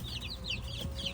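Young Black Copper Marans rooster chicks and other baby chicks in a brooder give soft, repeated chirps and clucks close by, steady over a low background hum.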